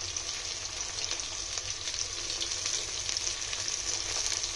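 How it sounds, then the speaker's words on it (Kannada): Mixed vegetables fry in a pan for veg pulao with a steady, close sizzle that holds at an even level throughout, with no voices. "ಎಲ್ಲ ವೆಜಿಟೇಬಲ್ಸ್ ಹಾಕಿ ಚೆನ್ನಾಗಿ ಮಿಕ್ಸ್ ಮಾಡಿ ಫ್ರೈ ಮಾಡ್ಕೊಳ್ಳಿ ಸ್ವಲ್ಪ ಟೈಮ್."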